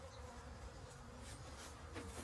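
Honey bees hum in a dense continuous buzz from an open hive during a split, with brood frames being shaken, the sound close and steady with no voices.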